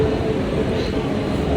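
A train rumbles steadily and loudly at a Mumbai railway platform, a continuous low mechanical roar with voices mixed in.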